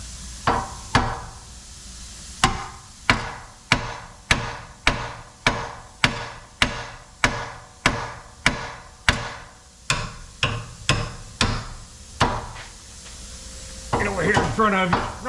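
A hammer taps a part on a Telluride, about twenty sharp metallic knocks in a fairly steady rhythm, close and loud, followed by brief scraping and rattling at the end.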